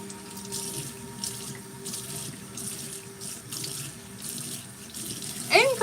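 Steady running tap water pours into a sink for several seconds, close and continuous, as a face is rinsed with cool water, ending with a brief louder splash.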